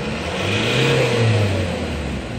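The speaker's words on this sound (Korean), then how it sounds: "자, 이전 장착할 차량, 이전 장착하기 전에 한번 밟아보겠습니다" A 2004 Kia Sorento engine revs close up as the accelerator is pressed, its pitch rising and then easing back in one smooth, loud sweep. No voices are heard.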